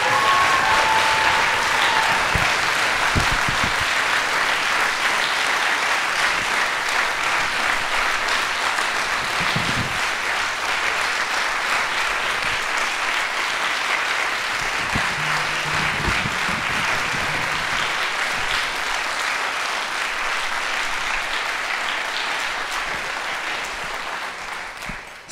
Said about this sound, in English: Please stand up so we can give you a big round of applause.